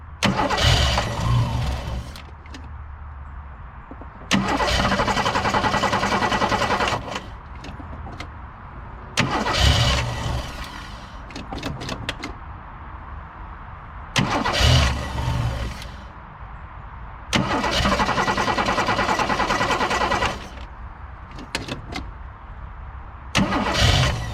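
Repeated cranking of an abandoned 1960s Ford, a 1962 Falcon or 1967 Galaxie, whose starter grinds in about five long loud bursts with quieter pauses between them and no catch into a running engine, suggesting a fuel pump fault.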